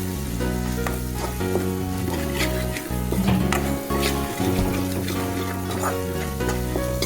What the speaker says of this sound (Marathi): तर इथे मसाले आपण छान परतून घेऊया.